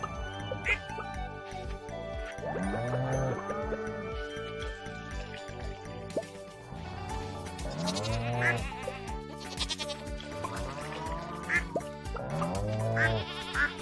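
Goats bleating on a farm in the Stardew Valley video game: several wavering bleats come and go over steady, upbeat game music, with a short run of bleats near the start and more later on.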